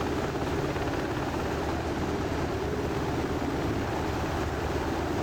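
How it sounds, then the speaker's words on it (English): UH-60 Black Hawk helicopter rotor and turbine noise, a steady loud broadband roar with low rotor throb running unbroken throughout, no voices. "And there's some helicopter there."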